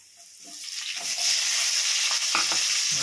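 Capsicum and onion frying in a pan with ginger and garlic, a steady loud sizzle that builds within the first second and holds, with occasional soft stirring knocks underneath and no talking.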